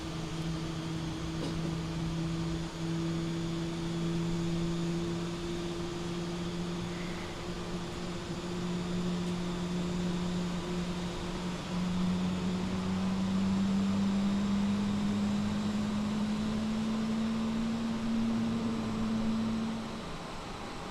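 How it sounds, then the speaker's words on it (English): Airbus A320neo jet engines spooling up during start in Microsoft Flight Simulator, a steady loud whine with a low tone that slowly rises in pitch over about twenty seconds, heard alone without talk. "I was watching an A320neo start up. It sounds exactly like this."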